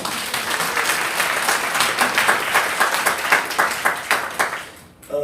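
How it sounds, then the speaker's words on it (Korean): An outdoor rally crowd at a protest event claps and applauds steadily for several seconds, dense and close, fading near the end. "우리 이분들 위해서 우리 박수 한번 쳐주시죠."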